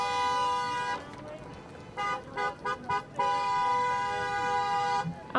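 Car horns honk during a drive-by car processional celebrating 2020 high school graduates, a long sustained blast, then a run of short rhythmic toots, then another long blast, loud and close with talk faintly beneath.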